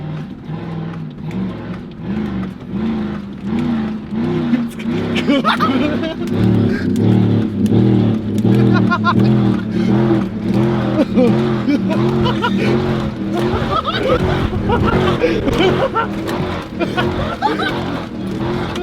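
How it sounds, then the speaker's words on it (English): A modified SEMA show truck revs hard and accelerates in an attempt to lift its front wheels, the engine roaring loudly and continuously while excited voices talk and shout over it. "let's see if we can get it to pop a wheelie"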